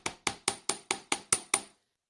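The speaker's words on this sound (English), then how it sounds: "as we're hammering to make it heavy in the middle" Eight even, ringing hammer strikes in quick succession as wire is flattened for a crystal-wrapped heart swirl gemstone pendant, close and crisp, then silence.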